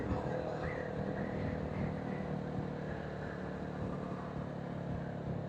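A BSA B65 Scrambler or Bantam 350 motorcycle engine drones steadily and loudly while riding, a continuous low rumble with slight shifts in pitch as it keeps revving, heard up close.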